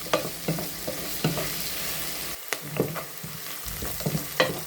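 Small-chopped garlic sautés in a pan for an onion-tomato sambar, a constant sizzle punctuated by sharp, irregular scrapes and taps of stirring.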